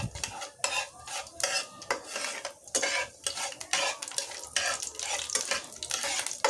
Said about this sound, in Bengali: এখন আমি এগুলোকে একটু ভালো করে ভেজে নেব